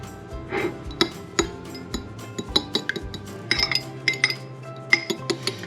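Two eggs scrambled in a bowl with a utensil, producing a quick series of close, sharp clinks and taps against the bowl, irregular but steady, with no talk.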